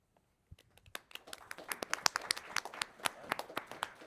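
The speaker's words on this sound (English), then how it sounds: "You're clapping for someone who's not here." Scattered claps from a small audience at an AI hack night grow into a brief round of polite applause, crisp individual hand claps building and then thinning out in a quiet room.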